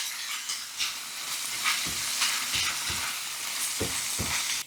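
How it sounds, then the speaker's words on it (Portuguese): Onion, ginger and garlic brown in a hot pan with a loud, continuous sizzle, punctuated by regular soft knocks and scrapes of a spoon stirring; no voices. "Vamos colocar o gengibre e o alho. Toda a cebola. E agora dourar bem."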